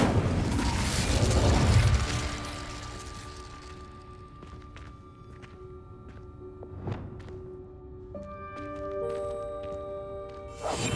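Incendio fire spell cast in Hogwarts Legacy, a loud roaring whoosh of flame in the first two seconds that fades into quieter magical chimes and tonal shimmer with scattered small thumps.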